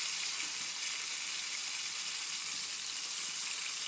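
Eggplant slices frying in oil, a steady, bright, close-up sizzling hiss that holds evenly throughout without pauses.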